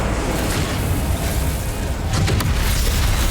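Incendio fire spell blast in Hogwarts Legacy, a loud, continuous roaring whoosh of flame with a rumbling low end that holds steady for a few seconds.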